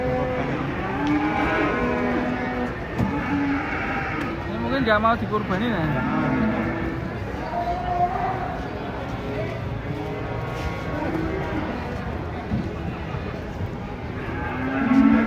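Sacrificial cattle being unloaded from a truck moo repeatedly in long, loud, drawn-out calls, one after another over a stretch of time, with people talking and shouting nearby.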